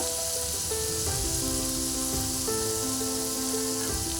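Chili powder, turmeric, mustard and green chili paste sizzle steadily in a pan for a katla fish curry with drumstick flowers, a constant hiss under soft background music.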